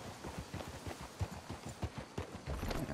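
Horse hooves clip-clop in a steady trotting rhythm in the video game Red Dead Redemption 2, fairly close and moderately loud, with no talking.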